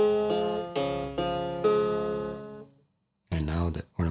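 Five plain plucked notes on a krar, an Ethiopian lyre, ring out one after another without ornamentation and fade into silence, after which a voice begins speaking.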